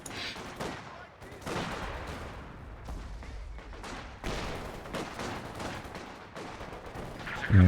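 Mortar and MG42 machine gun fire in a World War II strategy game match, heard as a dense, continuous run of bursts and booming impacts that swell and fade, ending on a loud close blast.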